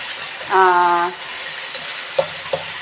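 Paste sautés in a pan, a steady close sizzle and frying hiss under a brief voice, with a couple of soft utensil knocks near the end.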